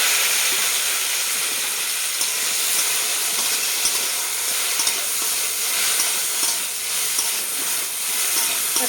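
Okra coated in salt and turmeric sizzles in hot oil in a kadai, a steady, close hiss with faint crackles and no voices.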